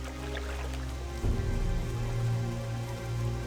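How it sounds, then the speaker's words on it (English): Rain falls steadily in a World of Warcraft game world, a dense patter of drops with a soft hiss, accompanied by low background music that swells slightly partway through. "A little bit of a rainy day here today"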